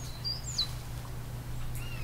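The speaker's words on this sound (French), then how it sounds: "Un oiseau voltige d'une branche à l'autre en chantant." A black-capped chickadee sings in a large maple, giving a few brief, faint high chirps over a steady low hum.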